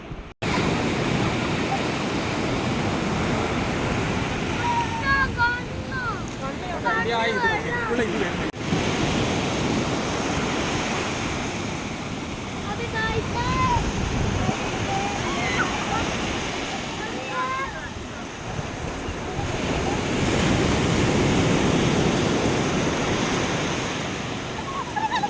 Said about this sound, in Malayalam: സാർ നോക്കണേ വെള്ളം കയറി കയറി വരുന്നുണ്ട്